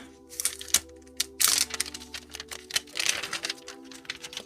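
Close, crisp crinkling and rustling of plastic wrap as a Samsung Galaxy A54 phone is pulled free, with irregular bursts of crackle over a few seconds and no talking.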